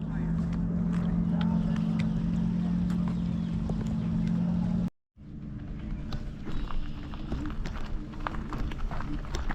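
A heavy scooter engine running as it climbs uphill on a trail, a steady close motor drone with rushing wind noise. It cuts out briefly, then resumes slightly rougher.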